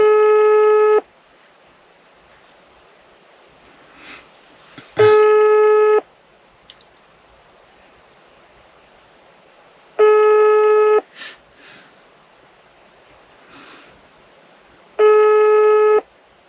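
A telephone call rings out as four evenly spaced, one-second tones about every five seconds against quiet room hiss, with faint small noises between rings.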